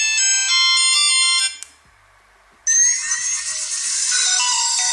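A tiny BM200 mini mobile phone plays its ringtones one after another: a bright, melodic electronic tune cuts off, a short quiet gap follows, then a different shrill, busy ringtone starts loud and close.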